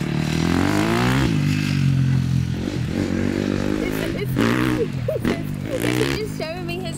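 A Grinch-themed dirt bike runs outdoors while it is ridden for tricks, its engine droning and revving with shifting pitch. Scraping and clattering sounds mix in, and voices can be heard in the background.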